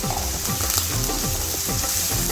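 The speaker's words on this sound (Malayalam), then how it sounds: "അപ്പോൾ നല്ല ഉള്ളിയൊക്കെ നന്നായിട്ട് വഴണ്ട് വന്നിട്ടുണ്ട്" Chopped onions sautéing in hot oil in a pan for a Kerala-style red fish curry, a steady close sizzle with repeated scraping stirs roughly every half second, no voices.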